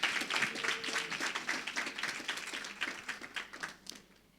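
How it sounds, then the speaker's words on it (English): A crowd claps steadily, many hands overlapping in a dense patter, before it thins and fades out near the end. "Can we please get another round of applause?"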